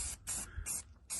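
Short bursts of spray paint tie coat hiss onto a metal block-off plate for a C10 gasser heater box hole, three or four close, loud blasts separated by brief pauses.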